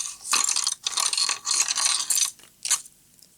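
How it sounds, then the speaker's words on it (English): Hollow braided fishing line having its inner core pulled out by hand, a string of dry, rasping, zipping pulls in bursts separated by short pauses, close and fairly loud, ending with one brief tug. "Taking off the core is as simple as just pulling it out"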